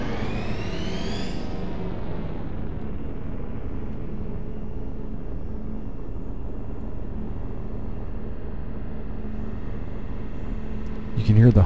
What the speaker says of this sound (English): You can hear the humming of the engine.